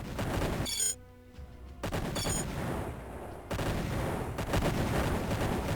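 Tanks in the Imperium Galactica strategy game firing on a colony hub, heard as dense, continuous rapid gunfire and explosions with brief breaks where the barrage drops away, loud throughout.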